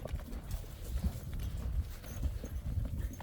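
Quarter horse hooves clip-clop steadily in a quick, even rhythm over rough outdoor noise, fairly close.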